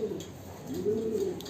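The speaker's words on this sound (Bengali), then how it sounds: "তারপর এখানেও আমাদের নতুন নতুন অনেক কবুতর আসছে" Pigeons coo in a home loft, their low, rolling calls swelling and fading in a steady murmur for over a second, close by and moderately loud with no talking.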